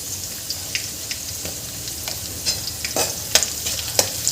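Turmeric, salt and green chillies being stir-fried in oil in a pan for a potato and fenugreek bhaji, with a steady close sizzle broken by scattered spoon scrapes and clicks.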